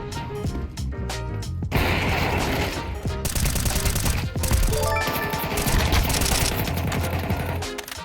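A suppressed M4A1-S rifle in Counter-Strike 2 fires in quick repeated bursts and single shots, soft thudding reports layered with game effects and clinks that run almost continuously, with no talking.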